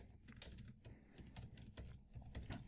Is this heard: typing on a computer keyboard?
yes